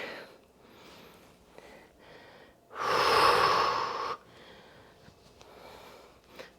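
A forceful exhaled breath during a full-body rowing and pressing workout, one loud, rushing blow lasting about a second between quieter breathing and shuffling.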